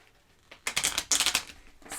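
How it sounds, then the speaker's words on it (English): A deck of tarot cards gets a quick riffle shuffle close by, two short bursts of fluttering, snapping card edges rising out of near silence, with a third burst starting at the end. "Let's give it a good shuffle."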